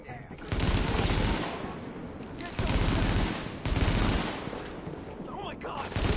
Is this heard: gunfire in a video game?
yes